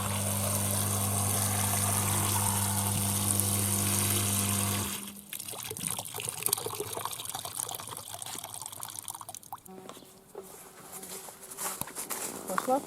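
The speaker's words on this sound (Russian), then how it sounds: "Все, кастрюля готова, наполняем водой" Water runs steadily into a pot, then cuts off and gives way to splashing and trickling, with a voice speaking partway through.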